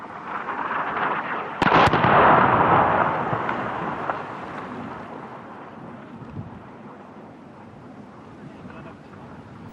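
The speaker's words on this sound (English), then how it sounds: "Within a couple of hours of our arrival, I witnessed one of the regular airstrikes." A distant airstrike explosion in Syria lands as a sudden heavy boom, then rumbles and fades into a long, wind-buffeted roar. No one speaks over it.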